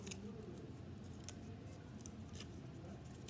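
Scissors trim folded paper for an accordion-fold book, a few quiet, close snips and crisp cuts over a soft, steady background hiss.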